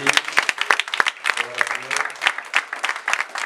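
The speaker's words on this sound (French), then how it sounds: "Est-ce qu'on peut les applaudir?" A church congregation in Paris applauds a visiting pastor and his wife with irregular, fairly loose clapping, close and crisp, while voices murmur underneath partway through.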